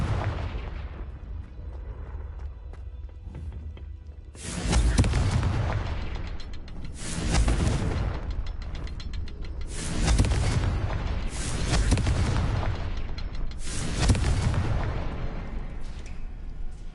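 Confringo fire spells burst in the Hogwarts Legacy video game: five heavy, booming explosions land about every two seconds, each with a loud rumbling tail, after a quieter opening.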